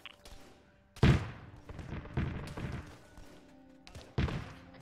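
Heavy booming impacts of artillery fire strike during a video game military operation, with three or four loud thuds spaced a second or so apart, each followed by a rumbling decay, over a low background.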